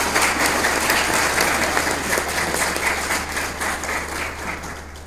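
An audience claps loudly and steadily for about five seconds at a school event, a dense wash of applause that fades slightly toward the end.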